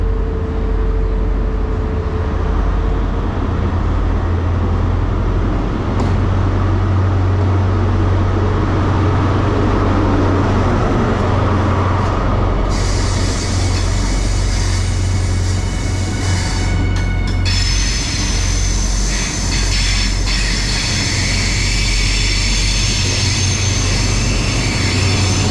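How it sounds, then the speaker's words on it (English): A Great Western Railway service to Cardiff Central pulls out of Newport station, a steady low engine rumble and rolling noise that holds throughout, with higher hissing and squealing tones entering midway as the train moves off. "going out now is the 1106 Great Western Railway service to Cardiff Central."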